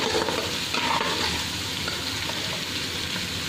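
Something sizzles in a hot pan while cooking black chickpea pulao, before onion goes in, a steady close crackling fry with light stirring throughout, no talk.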